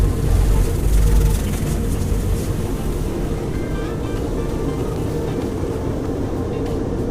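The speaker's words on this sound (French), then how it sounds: "regarde tous ces jets d'eau" Water jets spray both sides of a truck in an automatic car wash, a steady broadband hiss and rush that is loudest at the start and then holds constant with no break.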